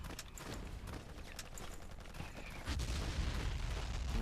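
Sustained video game gunfire with scattered bursts and explosions, steady and fairly loud throughout, growing denser and heavier in the final second and a half.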